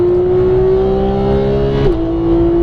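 A Porsche GT3 on a race track held at full throttle, its engine a loud steady high-pitched drone from inside the car, the pitch dipping briefly once before settling again, no talk.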